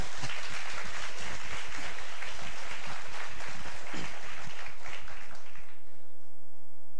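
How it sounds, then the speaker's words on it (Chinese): A church congregation applauds with dense, sustained clapping at close range that carries for several seconds and then cuts off abruptly, leaving only a low electrical hum. "掌声给我们神啊！"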